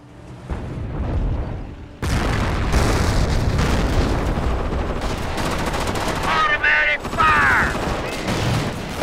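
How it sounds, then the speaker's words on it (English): Automatic gunfire in Company of Heroes, set in the Battle of the Bulge: sustained machine-gun bursts mixed with booming explosions keep up loudly after a brief quieter lead-in, with shouted voices breaking through. "Automatic fire!"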